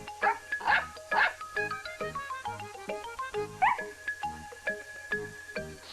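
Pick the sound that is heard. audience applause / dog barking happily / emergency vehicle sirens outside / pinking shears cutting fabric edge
dog barking happily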